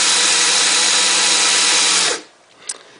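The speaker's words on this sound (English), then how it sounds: "I'm going to go ahead and turn on the drill so it'll be kind of loud" A power drill spins a case trimmer cutting down a .308 rifle shell, a loud steady whine for about two seconds that then winds down and stops, followed by a brief faint click.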